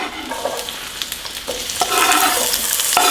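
Chopped vegetables frying in hot oil: a loud, continuous sizzle with stirring scrapes that grows busier and brighter partway through, close up, with no speech.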